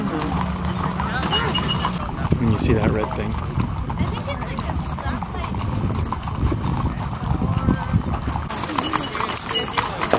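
Horse hooves clip-clop steadily on pavement in Amish country in Indiana, a continuous rhythmic clatter close by under people talking and background road noise.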